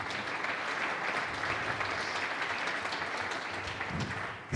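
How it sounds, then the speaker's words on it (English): Audience applause at an HbbTV symposium and awards event in Naples, a dense steady roar of many hands clapping that holds evenly throughout before easing at the end. "So a big last applause for our speakers."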